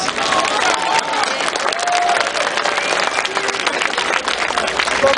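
A crowd at the end of a march applauds steadily, dense clapping mixed with some cheering, sustained and fairly loud throughout.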